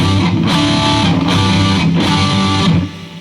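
A clean electric guitar tone through a BOSS eBand JS-10 amp modeler plays a rhythmic pattern of chords with a few sharp strums, loud and close, then falls quiet at the end.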